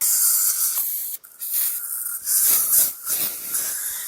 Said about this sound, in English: give it a clean with the foam cleaner